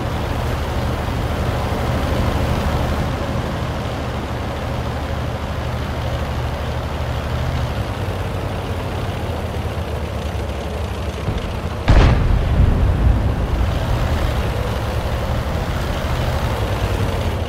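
A Panther tank in World of Tanks rumbles along with a steady heavy engine drone, broken midway by one loud, sharp cannon blast before the driving noise resumes.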